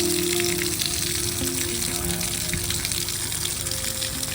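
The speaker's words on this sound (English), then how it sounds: "pulled the boat out, and lo and behold, she started draining" Water pours and trickles steadily out of the hull of a JarCat boat pulled from a lake, a continuous close hiss and gush with no break.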